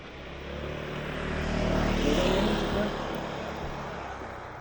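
Firefighting helicopters flying over forest fires, heard as a steady rumbling engine drone that swells toward the middle and then eases off, broad and fairly loud outdoors.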